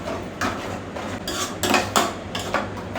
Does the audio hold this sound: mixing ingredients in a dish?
yes